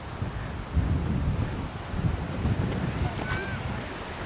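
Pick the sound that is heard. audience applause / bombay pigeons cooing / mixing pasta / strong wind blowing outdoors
strong wind blowing outdoors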